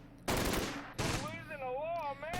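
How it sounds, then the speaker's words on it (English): MG42 machine guns firing in the Close Combat WWII strategy game: two loud, harsh bursts of fire, with a tonal in-game sound wavering over the second burst. "MG42s are really ripping up these guys"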